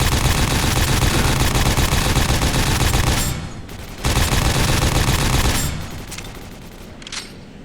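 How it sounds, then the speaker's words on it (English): Rapid nail gun fire in the Quake 4 video game, a dense continuous stream of loud mechanical shots that breaks off briefly, resumes, then thins into scattered bursts toward the end. "Maybe these guys are more susceptible to the nail gun."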